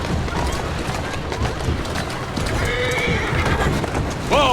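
A horse in the Assassin's Creed video game, set in Victorian London in 1868, whinnies several times over the steady clip-clop of its hooves, the neighs rising near the end against ambient game noise.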